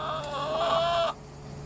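A Malines Turkey-head or Bielefelder hen lets out one drawn-out, fairly loud squawking cluck lasting about a second, then the coop goes quiet.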